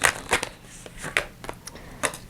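Tarot cards being shuffled by hand, several quick riffling bursts close by that come in irregular rhythm with short gaps between them, and no one speaking.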